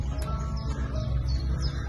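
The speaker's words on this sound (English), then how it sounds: "We've heard our first chiff-chaffs." Small songbirds, including chiffchaffs, calling at a nature reserve, with brief high chirps scattered over a steady low rumble of wind or distant noise.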